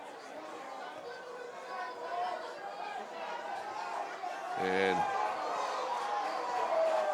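Spectators at a state high school lacrosse championship murmuring and reacting after a hard hit, a steady crowd din that swells slightly, with a commentator talking over it and a brief whistle.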